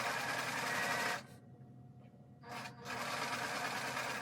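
A sewing machine stitches pinwheel quilt fabric in two steady, close runs of continuous whirring, separated by a brief pause near the middle.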